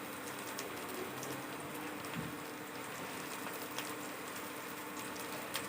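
Onions fry in a pan, giving a steady, quiet sizzle with faint irregular crackles and pops throughout.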